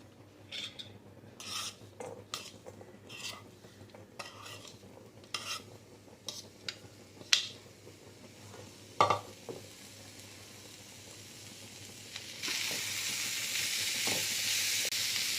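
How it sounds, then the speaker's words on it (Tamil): Mixed vegetables being sautéed in a kadai: a spoon scrapes and clinks against the pan in several separate strokes, then a loud, steady sizzle rises and holds near the end. "வெஜிடபிள்ஸ் வந்து ரொம்ப நேரம் வதக்கணும்னு அவசியம் இல்லை, ஒரு 3 minutes வதக்கினா போதும்."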